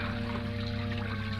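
Fountain water pours and trickles steadily into a stone basin in a 1944 radio suspense drama, a close, continuous splashing stream with no voices over it.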